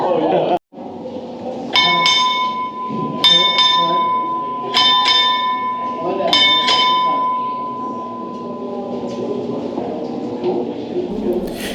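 A ship's bell aboard the battleship USS Alabama rings in four paired strikes, sharp metallic clangs with a lingering ring, amid a steady background murmur of a crowd.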